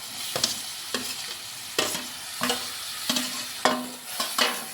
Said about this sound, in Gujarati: તેલ મૂકી દીધું છે. તો હાલ આપણે પાસ્તાનો વઘાર કરી નાખીએ.